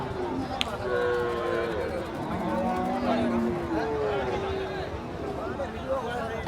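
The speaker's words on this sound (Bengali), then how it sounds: "এখানে কিছু ছোট গরু আছে" Cattle, including small cows and calves, moo repeatedly with long, drawn-out calls at the busy Patgram cow market, while people talk and a crowd murmurs throughout.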